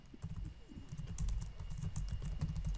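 Rapid typing of code on a computer keyboard while writing a Selenium test in an IDE, a dense run of close, steady key clicks with a low thumping undertone and no talk.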